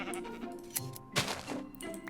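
Video-game sheep bleating, a few short, close bleats over a low bed of game sound.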